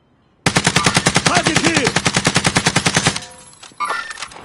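A sustained burst of rapid, evenly spaced video-game gunshots rings out loud and close for nearly three seconds, then cuts off to brief clatter and a short voice.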